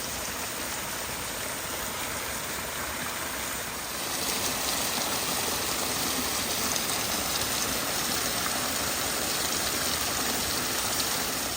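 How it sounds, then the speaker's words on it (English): Several newly formed waterfalls run across rural homestead land after heavy rain in early winter, giving a steady, dense rush of falling water that swells slightly louder partway through, with no voices. "we actually have proper waterfalls on our land"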